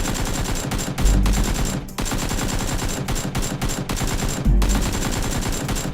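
Toy Nerf guns fire in a rapid, steady stream of loud, close snapping shots during a staged SWAT-style battle, with short breaks and heavier thumps at a few points.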